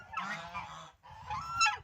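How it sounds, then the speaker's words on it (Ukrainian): A goose honks loudly in two harsh, nasal bursts with a brief pause between them, close by. "Знову ця гуска"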